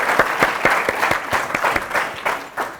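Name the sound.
audience applauding a contestant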